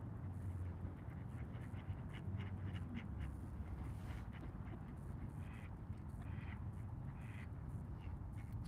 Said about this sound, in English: There is one white duck.